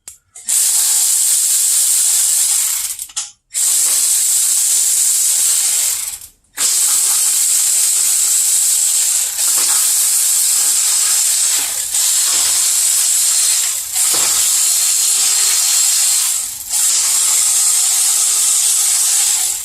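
A ratchet wrench clicks and spins steadily while 12mm bolts come off around the perimeter of a Honda D15/D16 transmission case, close and loud, broken by a few short pauses.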